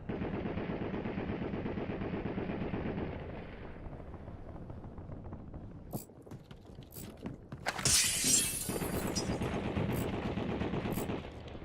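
Sustained machine gun fire in Call of Duty Warzone, a dense continuous rattle that pauses briefly before sharp single shots and a burst of louder blasts, then the rapid fire resumes, loud and close.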